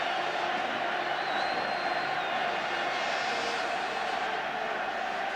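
A capacity stadium crowd at a 1980 England versus Argentina football match on a cool, breezy evening, a dense, continuous distant roar of thousands of voices holding steady throughout.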